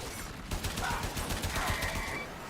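Rapid gunfire from the video game Warframe, a fast continuous stream of shots over game sounds, fairly loud throughout and with no voice.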